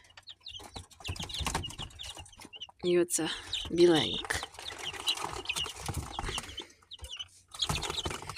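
Chickens cluck and squawk nearby, with a couple of loud sharp calls, while someone talks over them.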